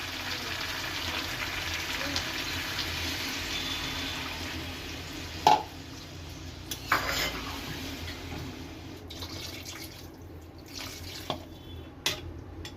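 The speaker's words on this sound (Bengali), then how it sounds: "এবার সেদ্ধর জন্য আমি একটু পানি অ্যাড করে দেবো" Water runs from a tap in a long, soft, steady stream while country chicken cooks in a pot, followed by a few sharp clinks of metal utensils against the pot.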